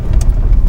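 A vehicle's engine idles low and steady at a stop during a manual gearshift from third back to first, on a winter road with steel-studded snow tires, a close continuous rumble with no talk.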